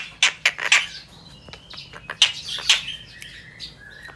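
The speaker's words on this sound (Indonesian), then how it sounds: "Ini tengkek buto," Tengkek buto, a large kingfisher kept as a training bird for songbirds, gives a run of sharp, loud chirping calls in bursts, close by and with no talk.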